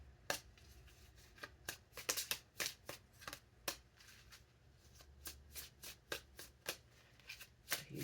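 Tarot cards being shuffled by hand, a run of crisp riffling snaps and soft rubbing bursts at an irregular rhythm, close and fairly quiet, with no talking.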